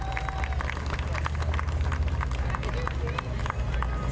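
Parade crowd at an outdoor Juneteenth parade in Milwaukee applauding county supervisors, with scattered claps and cheers over a loud, steady low rumble of crowd noise and babble.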